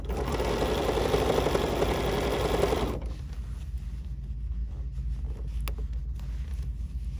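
A sewing machine stitches a quilt corner to corner, running in a loud, fast, continuous whir for about three seconds before stopping, leaving a quieter mechanical background with a few small clicks.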